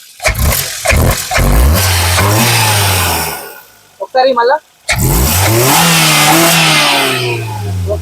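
A 2010 Maruti Suzuki Ritz VXI car engine revs up loudly and steadily with a rising roar, briefly dropping off mid-way before revving again, while someone talks over it.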